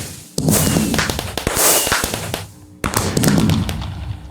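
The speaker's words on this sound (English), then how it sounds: "Fireworks for the achievements." Fireworks bursting in Terrafirmacraft, a rapid loud barrage of crackling pops and bangs that fills the whole stretch, briefly dropping out before another dense volley of crackles.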